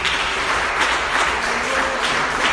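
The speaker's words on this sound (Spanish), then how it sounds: "¿Por qué no le das un aplauso al Señor?" A church congregation applauds together during a Spanish-language worship service: steady, dense clapping fills the whole clip at a fairly close, even level, with no speech over it.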